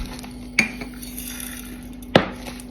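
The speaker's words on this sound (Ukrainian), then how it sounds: "ложечка моя впала" A small spoon drops in a kitchen while pickling cucumbers, making two sharp, bright metallic clinks over a steady low background hum.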